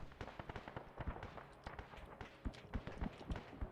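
APCs firing high-explosive rounds in the ARMA 3 video game, a rapid irregular series of sharp cracking bursts and thuds, moderately distant, some blasts louder than others.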